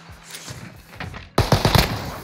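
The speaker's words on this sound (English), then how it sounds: "Oh, taking fire." Rapid automatic gunfire from a Call of Duty Warzone match on Rebirth Island, scattered shots early then a loud, close burst of fire crackling in quick succession.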